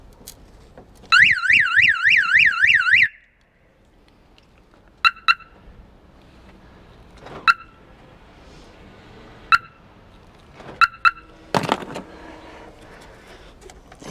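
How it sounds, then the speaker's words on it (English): A Honda Fit's car alarm blares loudly for about two seconds with a rapid warbling, pulsing tone during battery work, then cuts off, followed by scattered clicks and clunks of tools. "keep this connected because the alarm will just keep going off"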